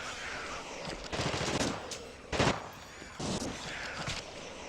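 Gunfire in the video game The Thing, with bursts of automatic shots crackling in irregular clusters amid game noise, moderately loud and with no speech.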